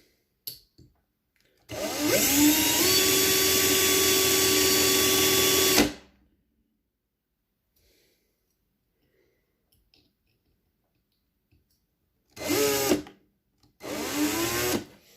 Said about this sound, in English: make sure you're drilling in the forward motion